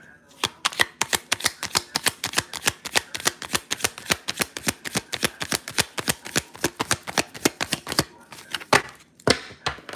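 Tarot cards being shuffled by hand, a long run of crisp rhythmic riffling snaps close to the mic, ending in a few slower separate card slaps, with no talk over it.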